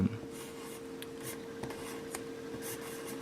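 A fine marker scratches graffiti tag letters onto paper in short strokes, a dry close rubbing squeak repeating steadily with no talk.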